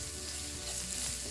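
Cumin, pepper and coriander powder frying in a pan on low flame, a brief, dense, steady sizzle with soft stirring beneath it.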